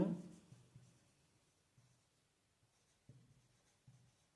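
Chalk or marker strokes on a board during a Hindi-language chemistry lesson on amine preparation, a few soft scratchy bursts spaced apart with quiet gaps, faint and close.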